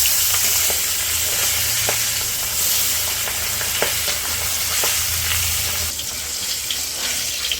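Pabna fish frying in hot oil gives a loud, continuous sizzle with scattered pops and spits of splattering oil, close up throughout.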